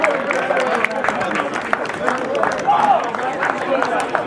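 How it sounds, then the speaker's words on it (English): A crowd applauds the match officials after a Premier Cup football final: continuous, fairly loud clapping that runs through the whole moment, with voices and crowd chatter mixed in. "Can we have a round of applause for our match officials?"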